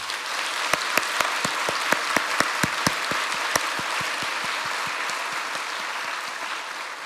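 At a Korean church's 50th-anniversary thanksgiving service, the congregation applauds a late pastor: a sustained, fairly soft wash of clapping with a few sharper individual claps standing out early on.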